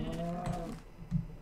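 Cows moo in the Minecraft Tekkit video game, with two low, drawn-out moos heard fairly quietly over a faint background with light keyboard clicks.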